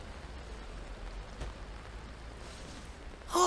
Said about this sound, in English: Oh, good! The rain's starting to let up.